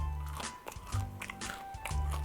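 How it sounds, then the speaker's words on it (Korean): Crispy fried chicken is bitten and chewed right at the microphone, giving repeated crunchy snaps and soft chewing over a low steady hum. "그래서 가슴 쪽은 바삭한 느낌이 좀 들든 푹석푹석 들어가고 이 다리 부분 바삭하거든"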